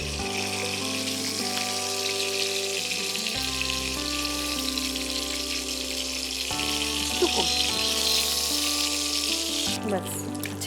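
Ingredients for a Bengali dish of small shrimp with pumpkin greens are lightly fried in a pan, a constant even sizzle and hiss that runs the whole time over steady low tonal background sounds.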